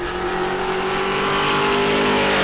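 A super stock race car passes on a track during qualifying at New Smyrna, a loud, steady engine drone that swells as it nears and stays strong throughout.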